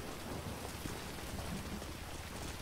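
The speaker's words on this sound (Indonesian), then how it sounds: "Hujan ya?" Steady rain falling outdoors, a dense continuous hiss of drops close by with no voices, constant in level throughout.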